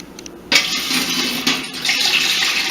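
Water gushes from a tap into a cooking pot while a beer brewing kit is being prepared, a short quiet trickle and then a steady rushing pour that carries on throughout.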